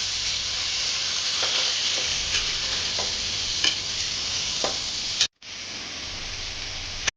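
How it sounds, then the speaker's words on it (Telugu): Mutton head curry stirred in a pan, with a steady sizzle and soft scraping strokes that run continuously for about five seconds before a brief pause, then resume quieter. "ఇప్పుడు ఒకసారి మొత్తం మిక్స్ అయ్యేలా బాగా కలుపుకోవాలి"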